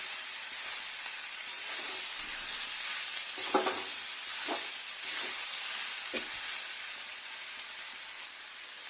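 Chunky potato pieces fry quietly as a spatula turns them, making a soft, even sizzle with four or five distinct scraping strokes spaced about a second apart, and no talking.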